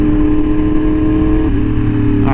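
A Yamaha R1M sportbike drones loudly and steadily while riding, its engine pitch dipping briefly partway through as the bike slows.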